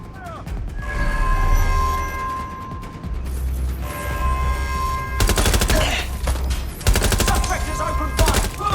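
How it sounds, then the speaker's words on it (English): Automatic gunfire rattles through Watch Dogs: Legion in a quantum lab under a security alert, loud bursts of rapid shots broken by short gaps, with voices and game sounds between volleys. "Suspect is open fire!"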